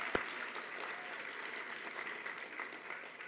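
An audience at a pharmacy technology pinning ceremony claps steadily in a large room, a dense and even wash of applause that holds from start to finish, with a sharp clap near the beginning.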